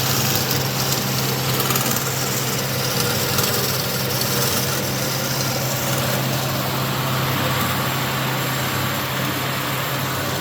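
A repaired Cosen C-4038 NC saw machine runs at a steady, even hum with a constant mechanical drone and no talking.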